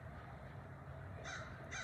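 Crows caw outdoors, two harsh calls near the end over a quiet low background hum, moderately distant.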